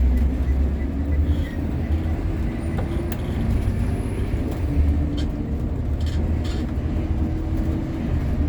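An empty school bus drives along early in the morning, a continuous low engine rumble with rattles and road noise from inside the cabin and a faint whine, heard alone.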